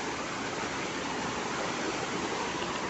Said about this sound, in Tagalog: Galing dam yung tubig kasi.